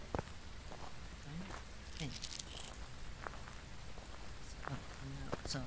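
Heavy rain in the horror video game Phasmophobia pours as a dense, steady hiss with scattered drop patters and crackles, continuous throughout, with faint murmuring underneath.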